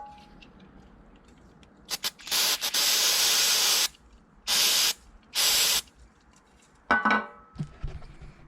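Mass airflow sensor cleaner sprayed from an aerosol can onto a MAF sensor during an air intake service, a few sharp hissing bursts, two short and three longer, close and loud, followed by light handling clatter.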